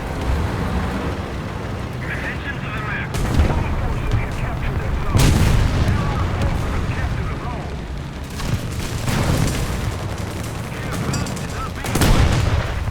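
Tank cannon firing high-explosive rounds in War Thunder, with a Chi-He in play: sharp booming blasts at about 3, 5 and 12 seconds, heard close and loud over constant engine rumble and battle noise.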